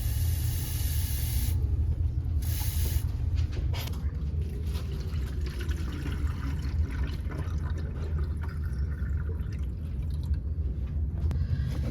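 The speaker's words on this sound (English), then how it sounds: "we're measuring 24 ounces of water from the sink" Tap water runs steadily from a kitchen sink faucet into a measuring container while black-and-white film is being developed, a continuous hissing splash with faint clinks, no talking.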